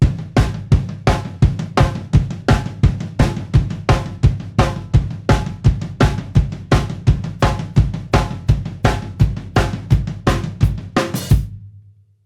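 Rock drum beat played on a kit, with constant eighth notes on the floor tom, a snare backbeat and bass drum, even and loud, close up for about eleven seconds before the final hit rings out.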